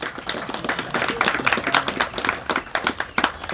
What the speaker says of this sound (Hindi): इस पर तालियां थोड़ी।